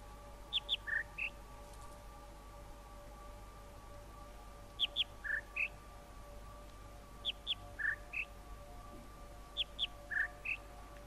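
Bird chirps from the video game The Witness, sounding in four short bursts of two or three bright tweets each, spaced a few seconds apart over a steady soft background hum.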